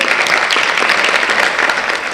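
Dense, steady audience applause fills a lecture hall during a Fail Fest talk in Nowshera, loud and continuous with no speech over it.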